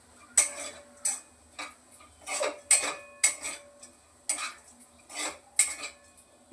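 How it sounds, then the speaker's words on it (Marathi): Potatoes, green chillies and peanuts sautéed in a pan, with a metal spoon scraping and clinking against the pan in a steady series of sharp knocks, close and alone. "बटाट्यासोबत हे सगळं मिरची शेंगदाणे चांगलं परतून घ्यायचं आहे"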